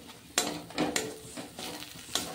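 Spice paste with onion and chili powder stirred in a pan over low heat, soft frying hiss broken by several sharp scraping strokes of a spoon against the pot, close and fairly loud, no talking.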